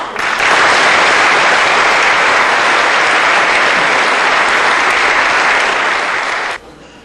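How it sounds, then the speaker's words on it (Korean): An audience in a lecture hall applauds to welcome a visiting professor at Gyeryongdae, a steady, loud, dense wash of clapping lasting several seconds before cutting off abruptly near the end. "뜨거운 박수로 맞아주시기 바랍니다"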